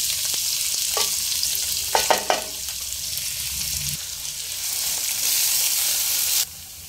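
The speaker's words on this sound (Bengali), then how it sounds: "কুচানো পেঁয়াজ দিয়ে দেব।" Chopped onions hiss and sizzle steadily in a hot pan while a spoon scrapes and stirs them in a few brief strokes, the frying close and continuous until it quiets near the end.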